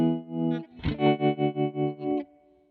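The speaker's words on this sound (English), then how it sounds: "This one's called Tremolo Tremolo." A MoogerFooger-style tremolo plugin in Studio One pulses a sustained, distorted tone in steady rhythmic swells, about seven even throbs across two seconds, loud and alone.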